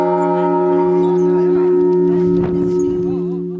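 A large church bell, the biggest of eleven newly blessed bells in a village belfry, rings with a sustained deep humming tone that fades slowly, while a voice talks over it.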